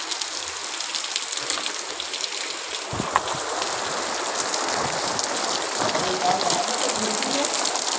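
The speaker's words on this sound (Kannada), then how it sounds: "ಅಪರೂಪಕ್ಕೆ ಮಳೆ ಬರ್ತಾ ಇದೆ ಫ್ರೆಂಡ್." Steady rain pours down outside a kitchen, a dense continuous hiss of drops striking surfaces, with a brief louder splash near the three-second mark and no talk over it.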